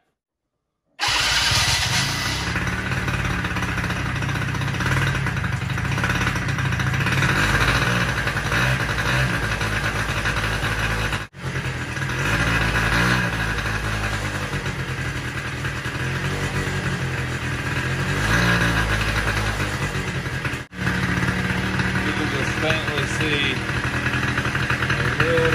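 A Polaris Sportsman 90 ATV engine, choked by hand over the intake, runs loud and steady throughout, its pitch wavering and surging as if struggling, with two brief cutouts along the way.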